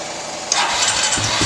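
A Honda Rancher ATV engine, just after a carburetor rebuild, runs roughly close by for a second and a half, sputtering and faltering as if about to stall.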